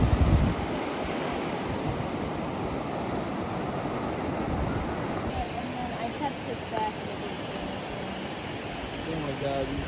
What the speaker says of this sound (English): So we're checking out Ruby Beach. It's just this black sand pebble beach out here.